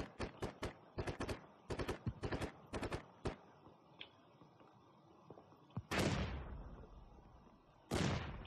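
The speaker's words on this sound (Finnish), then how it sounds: "Ampuu taas vieressä." Gunfire in the video game Squad, heard nearby: several tight bursts of sharp automatic shots in the first few seconds, a lone faint crack, then two louder booming single blasts with long decaying tails.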